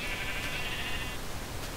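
Minecraft sheep bleating in the game, a couple of wavering bleats over a steady wash of game background noise, moderately loud.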